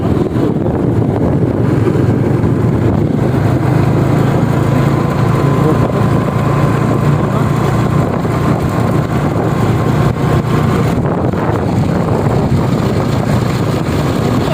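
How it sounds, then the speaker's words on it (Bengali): A motorbike carrying a rider and passenger runs along steadily, its continuous low engine hum blended with loud wind roar across the microphone, unbroken and close for the whole stretch. "এক হাতে বাইক চালাচ্ছি।"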